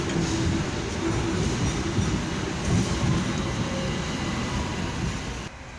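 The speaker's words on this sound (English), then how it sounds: "Hong Kong tram." A Hong Kong double-decker tram running along its tracks, a steady close rumble and rattle of wheels and carriage, loud and continuous, no voices.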